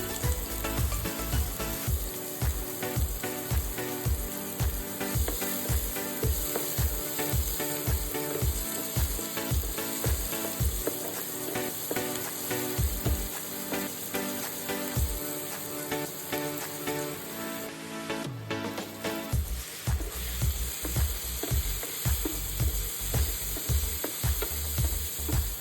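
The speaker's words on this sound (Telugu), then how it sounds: "అలాగే సన్నగా తరిగిన ఉల్లిపాయ ముక్కలను కూడా దీంట్లో వేసేసి బాగా ఫ్రై చేయాలన్నమాట" Finely chopped onions frying in oil for prawn curry, stirred with a spoon in the pan: loud continuous sizzle under a rapid, regular run of scraping strokes that pauses briefly near the end before resuming, no voices.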